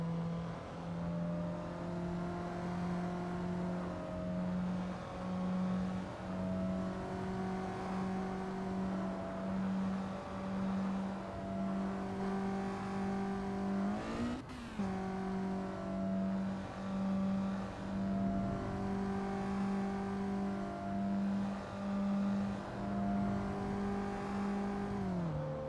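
Car engine in Assetto Corsa traffic mode, a Nissan or Mazda, revving hard with a steady droning tone that rises and falls in pitch over a long stretch, with a brief dip and sharp shift midway.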